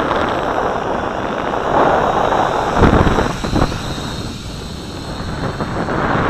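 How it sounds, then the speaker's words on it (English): Steady wind roars and buffets across a small Syma X5C quadcopter flying outdoors on a windy day, with broad gusting rushes swelling and dropping throughout and a few louder bursts near the middle. "Fighting this wind."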